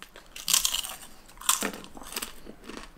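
Crisp bites into a crunchy corn cake, followed by crackling chewing, close and clear, with two loud crunches and softer munching between, no talk.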